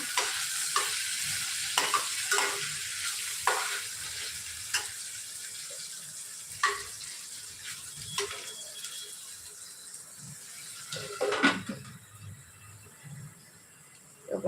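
Puffed rice (mamra) is stirred in a pan over a low hiss of frying, with a series of soft scraping strokes at an irregular rhythm, close and moderately quiet, with no talking.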